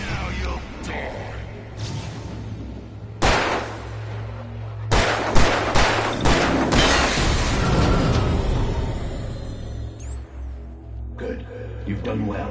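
Gunfire in the Alan Wake video game: a series of loud, sharp shots, several in quick succession, ringing out over eerie ambience, with a voice speaking between them.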